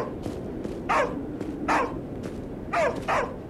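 A dog in the zombie video game Arizona Sunshine 2 barks in four sharp bursts over a steady low rumbling background, with no talk.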